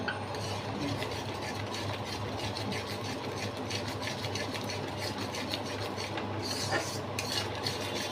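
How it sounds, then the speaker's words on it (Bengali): Milk being stirred in a cooking pan while making a mango dessert, a steady scraping and swishing that continues evenly throughout, with faint utensil clinks near the end. "দুধটা দিয়ে আবার নাড়ছি"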